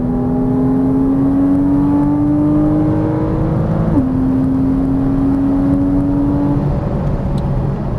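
A Porsche Cayman S engine drones under throttle on track, its tone climbing steadily, dipping briefly at a gear change, then rising again in a loud sustained in-car run.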